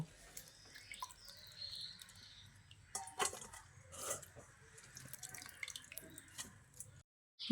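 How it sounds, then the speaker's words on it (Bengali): Drumstick flowers being washed by hand in warm water in a bowl, with faint, scattered drips and small splashes throughout and no talking. "এই উষ্ণ গরম জলের মধ্যে সজনে ফুলগুলোকে একটু দিয়ে ভালো করে ধুয়ে নেব"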